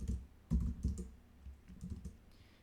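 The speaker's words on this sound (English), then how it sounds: "just start typing in" Typing on a computer keyboard while building tile card graphics in PowerPoint, with short bursts of close key clicks and a couple of louder strokes, no voices.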